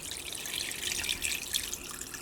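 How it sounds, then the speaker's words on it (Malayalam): Water is poured into a pot of small cut raw chicken pieces, giving a steady close trickling and splashing that holds at an even level throughout. "ഇനി ഞാനിതിലേക്ക് കുറച്ച് വെള്ളം ഒഴിക്കുകയാണ്."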